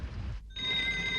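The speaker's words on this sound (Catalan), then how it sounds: "agafa el telèfon, sisplau," A cartoon telephone rings with a steady electronic tone after a brief rush of rainy background noise and a short silence.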